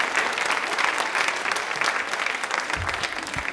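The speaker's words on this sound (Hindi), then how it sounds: "आपके लिए तालियां जोरदार हो जाए प्लीज एक बार।" A quiz-show studio audience claps steadily in a brief, even burst of applause with no voices over it.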